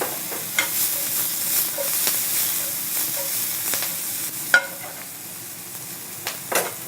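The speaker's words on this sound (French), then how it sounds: "On va remettre juste un tout petit peu de beurre pour qu'ils puissent bien rôtir." Onions roasting in butter in a pan give a steady soft sizzle throughout, with a few sharper clicks and scrapes from stirring scattered over it; the kitchen is quiet, with no talk.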